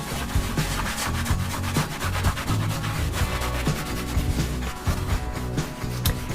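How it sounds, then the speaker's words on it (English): A rag rubs cold wax paint onto a painting in quick, repeated strokes, making a dense, steady scrubbing rasp that goes on without pause and sounds close by. "I'm going to take this rag and I'm just going to kind of rub it in"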